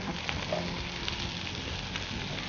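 Spicy chicken wings fry in a pan with chili sauce, a quiet, steady crackling sizzle with small scattered pops throughout and no talking.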